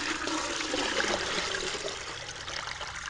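Contaminated water splashes and trickles steadily into a water purifier, a bright, continuous pouring stream close to the microphone that eases slightly toward the end.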